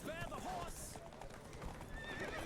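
Horses' hooves clip-clop rapidly during a race in the video game The Witcher 3, with a horse neighing over the pounding gallop and a voice calling out briefly.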